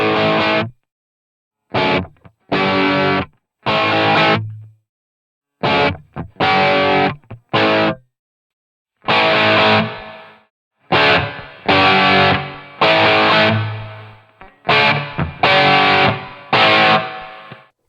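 Distorted electric guitar through an amp and cab, dialed for a classic hard rock tone, plays short punchy chord stabs and bursts separated by clean silences, loud and gritty with no talking.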